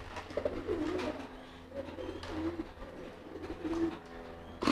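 Pigeons cooing in courtship, a male driving the hen, with repeated soft throaty coos in short phrases at close range, no talking.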